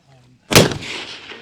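A single loud precision rifle shot fired at a small target during a rifle match. The sharp crack is followed by a long, rolling echo that fades out.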